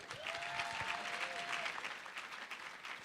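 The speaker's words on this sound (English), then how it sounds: "He is certainly well deserving of our applause as he comes to the stage." Applause at an annual pitch and awards event as a speaker walks to the stage, a moderately distant, even crowd clapping with a faint sustained tone underneath.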